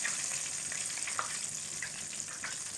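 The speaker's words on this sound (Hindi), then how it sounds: "एक दफ़ा झाड़ने के बाद आप इसको इसमें डिप कर दें और इसको फ्राई होने दें" Chicken drumsticks frying in hot oil, a steady crackling sizzle with scattered pops, fairly quiet and continuous with no voices.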